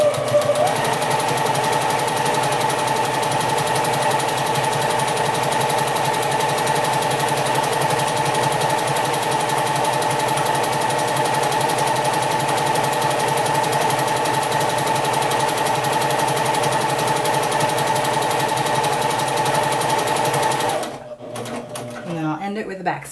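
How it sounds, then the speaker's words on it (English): Sewing machine running a quarter-inch seam around a fabric circle for a cathedral window quilt: a steady, even mechanical whir and rapid needle clatter that holds constant for about twenty seconds before stopping, with a voice speaking over it. "I'm just going to sew 1/4-inch seam allowance going all the way around the circle"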